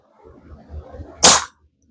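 A Diana Chaser air pistol fires a single sharp, loud crack after a moment of quiet shuffling.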